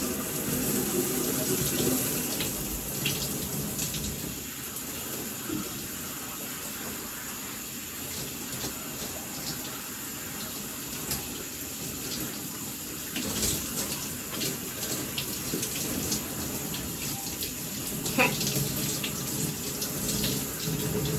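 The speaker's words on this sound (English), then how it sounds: "just turn the water back on, and I'm going to rinse really well" Water runs continuously from a tap nearby while rinsing hair, a steady splashing rush with small irregular splats as it falls, going on without pause.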